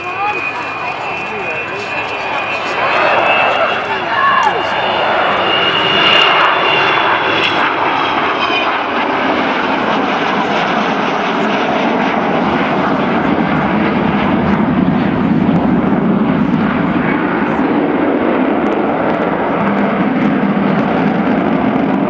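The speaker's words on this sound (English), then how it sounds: "That is the sound of 4 Rolls-Royce Bristol Olympus 202 engines," An Avro Vulcan bomber with four Rolls-Royce Bristol Olympus 202 engines roars at an air show, a loud sustained jet howl with whining tones that rises and then settles into a deep rumble, with a person speaking over it.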